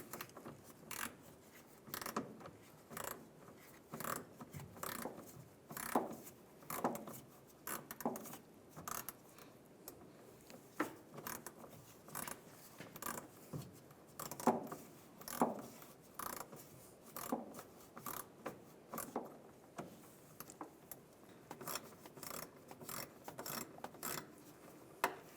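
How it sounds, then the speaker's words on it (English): A ratchet with an 8mm socket loosening a worm clamp on the fuel filler neck above the gas tank of a 2007-2013 Chevrolet Silverado, giving repeated clicking strokes in short bursts, close and fairly quiet, with no talking. "I'm going to use an 8mm socket, and right above the gas tank, there's a worm clamp. We're going to loosen that up."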